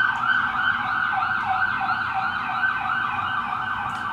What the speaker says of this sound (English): Please excuse the sirens.